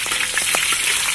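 Salted egg frying in a pan of hot oil, a steady close crackling sizzle with small pops running throughout the short stretch.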